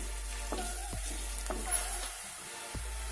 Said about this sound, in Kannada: ಈ ಒಗ್ಗರಣೆ ಎಲ್ಲ ಚೆನ್ನಾಗಿ ಫ್ರೈ ಆದಮೇಲೆ ಇದನ್ನು ಆ್ಯಡ್ ಮಾಡ್ಕೋಬೇಕು.